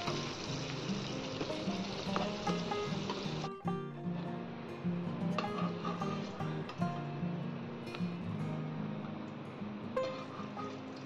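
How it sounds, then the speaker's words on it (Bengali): Steady oil sizzle from pointed gourd slices, coated in turmeric and salt, frying in a pan, with occasional clinks and scraping of a utensil, continuous throughout and fairly close. "হলুদ নুন মাখিয়ে পটলগুলো ভেজে নিচ্ছি"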